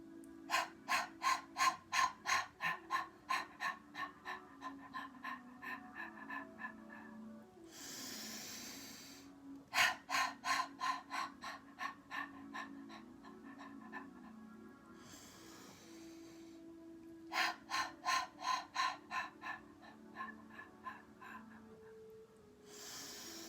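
Kapalabhati yoga breathing: three bursts of rapid, forceful nasal exhales in quick rhythmic pulses, each run separated by a longer, rushing inhale, close and fairly loud.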